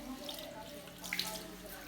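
A faucet runs softly while hands are rinsed under it during a handwashing demonstration, a faint steady splash with a couple of small droplet sounds.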